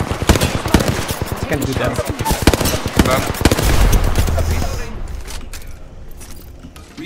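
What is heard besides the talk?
gunfire in the video game Apex Legends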